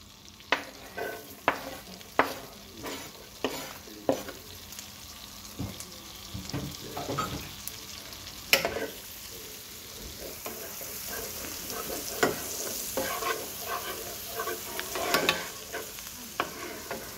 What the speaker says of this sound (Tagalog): Tutunawin natin yung butter hanggang mapuno siya ng maigi. Saka maraming bawang.